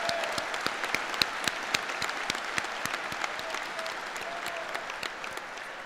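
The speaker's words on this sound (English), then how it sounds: "Can we please give them all a round of applause?" Audience at a high school commencement ceremony applauding in a sustained wash of clapping, with individual claps popping out near and far, steady and fairly moderate throughout.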